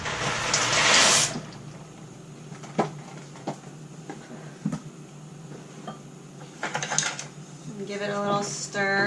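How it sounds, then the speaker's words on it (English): Dry pasta rattles as it is poured into a pot of boiling water for vegan carbonara, followed by scattered clinks, bubbling and kitchen handling sounds at close range. "So my water is boiling for my pasta, so I'm going to go ahead and put my pasta in"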